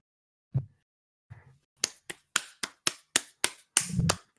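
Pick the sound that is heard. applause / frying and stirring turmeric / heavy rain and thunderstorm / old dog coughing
applause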